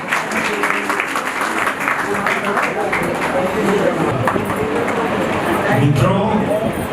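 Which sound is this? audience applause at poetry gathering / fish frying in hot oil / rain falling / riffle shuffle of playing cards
audience applause at poetry gathering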